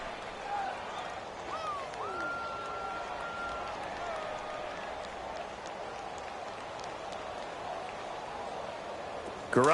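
A stadium crowd in an American football video game broadcast roars and cheers steadily after a defensive stand, a constant wash of crowd noise under commentator talk, with a brief sharper burst at the end.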